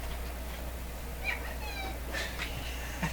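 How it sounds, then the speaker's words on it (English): A cat crying outdoors in winter, faint and distant, giving a few thin meows spread across a steady low background hum. "I hear my poor cat crying the whole"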